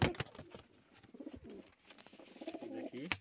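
Pigeons coo softly and repeatedly, close by, with a few sharp clicks and rustles around them.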